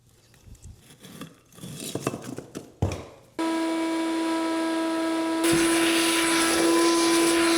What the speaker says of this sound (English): I had to stop vacuuming because the vacuum got too full.